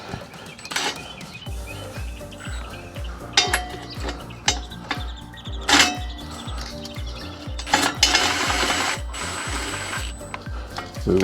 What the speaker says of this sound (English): we reuse the 15mm nuts that we took off earlier. Yeah, just gotta run these down.